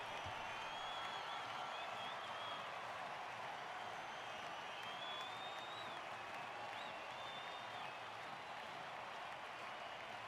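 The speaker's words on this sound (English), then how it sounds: "That is too much applause for a small auditorium" Dense, steady applause from a crowd in a small auditorium in the video game The Talos Principle, continuous and even throughout, with faint tonal sounds drifting above it.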